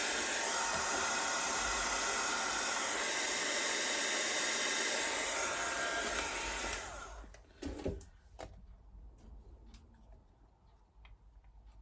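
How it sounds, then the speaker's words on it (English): A craft heat tool blows a loud, steady rushing whoosh to dry the ink on a card sentiment on a butterfly card, then cuts off, leaving faint clicks and handling sounds. "You can dry this off with your heat tool, speed things up."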